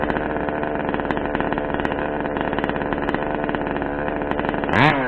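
A Rovan Baja 1/5-scale RC car petrol engine warming up in cold weather with its resonator removed, idling loud and close with a steady buzzing drone and a brief revving swell near the end.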